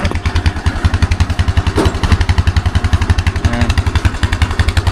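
A motorcycle engine runs close by in a steady, fast-thumping idle, loud and continuous throughout, with a brief clatter partway through.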